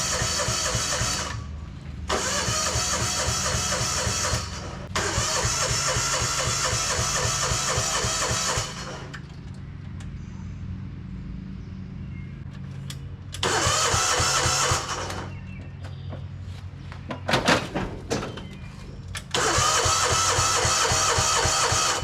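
An old Japanese mini excavator that has sat unused for years cranks over and catches, its small engine then idling with a steady mid-pitched chug that cuts out and restarts in several loud bursts.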